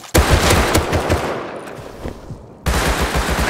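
Thompson submachine gun fire in the survival game Rust: rapid, loud automatic bursts with dense repeated shots, a brief lull near the end, then a fresh burst of close gunfire.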